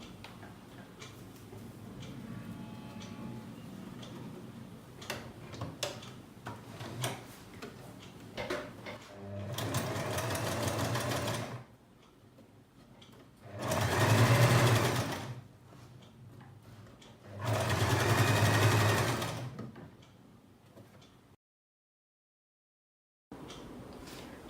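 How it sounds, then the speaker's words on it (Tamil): A sewing machine stitches a folded churidar neck in fabric, running in several sustained bursts with a close mechanical whir and pauses between them, ending in a short silence. "இதை மடித்து வச்சு நம்ம இப்போ தச்சுக்கலாம்."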